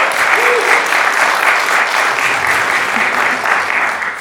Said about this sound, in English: Can we have a round of applause for the film, first of all?